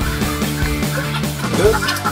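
A group of turkeys gobble and call over one another close by at feeding time, a busy, overlapping chorus of poultry sounds.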